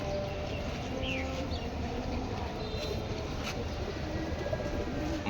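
Male and female pigeon pair cooing softly at a pigeon house, the low calls nearly buried under a steady, loud background hum and rumble, with no talking.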